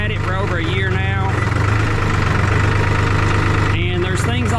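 A tractor engine idles with a steady low rumble throughout, heard during hay baling, while a voice speaks over it.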